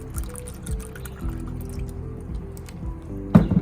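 Water pours into a 2-cup measuring cup while homemade chalk is mixed, a steady trickle with soft drips and splashes close by, ending in a brief louder splash.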